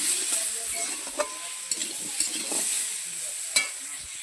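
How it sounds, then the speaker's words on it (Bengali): Food being stirred and fried in a pan with spice paste, giving a steady close sizzle broken by several sharp scraping and stirring knocks, with no one talking. "এটাকে একটু ভালো করে ভেজে নেব।"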